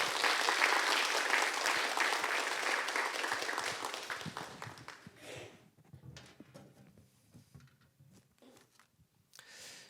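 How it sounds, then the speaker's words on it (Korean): A church audience applauds to welcome a pastor, with dense clapping that is loud at first and then thins out and tapers into scattered claps. "힘찬 격려와 또 환영의 박수로 맞이하도록 하겠습니다"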